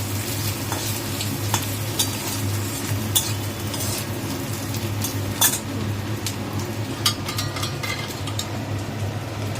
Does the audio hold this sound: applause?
no